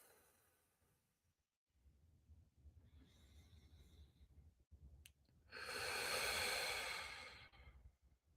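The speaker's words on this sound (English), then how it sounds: "we're going to breathe in through our nose, out through our mouth." A person breathes deeply during a guided exercise, first a quiet inhale through the nose, then after a pause a long, loud, airy exhale through the mouth, close and alone.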